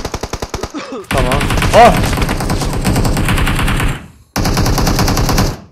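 Rapid bursts of automatic gunfire from the PUBG Mobile battle royale game ring out loud and close, a quick volley followed by sustained firing with a short pause before another burst, while a player shouts briefly over it.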